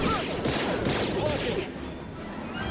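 Game gunfire in Star Wars Jedi: Fallen Order, a dense steady barrage of blaster shots running throughout with some voices underneath, fading slightly toward the end.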